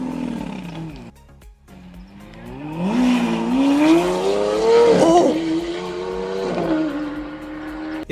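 A loud Lamborghini engine revs hard on a street, rising into a roaring, climbing howl with some tire squeal, then settling, close and dominant.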